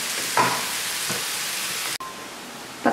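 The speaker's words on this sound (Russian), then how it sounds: "Пока грибы и лук жарятся" Mushrooms and onions fry in a pan with a steady, close hiss and sizzle that runs throughout, broken by a brief clatter or stir and no talking.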